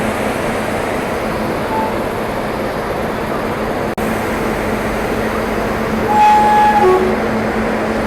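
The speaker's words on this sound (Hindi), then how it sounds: "तो कुछ ऐसे ऑन किया जाता है WP7 इंजन को" A loud, steady hum from an Indian Railways WP7 electric locomotive starting up, hauling a Rajdhani Express, with a thin rising whine and a tone appearing toward the end.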